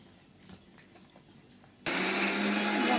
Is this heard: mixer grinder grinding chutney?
yes